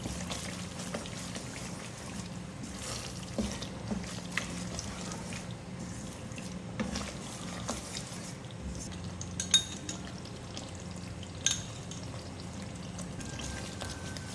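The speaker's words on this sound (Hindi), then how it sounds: "भूनेंगे इसको और 3 से 4 मिनट में इसकी अच्छी सी और भुनाई करूँगी" Spiced masala with whisked yogurt fries in a pan for chandan kofta curry. A soft, steady sizzle and bubbling is broken by occasional sharp clinks and scrapes of a spoon against the pan.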